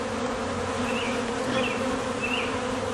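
Honey bees buzz steadily in a Demaree hive box, a dense continuous drone close by with a few brief higher whines from individual bees passing near.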